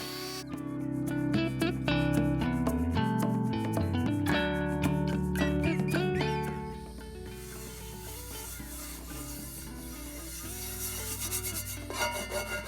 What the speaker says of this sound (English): So I think I'm going to do a little bit of polishing right in through here in the middle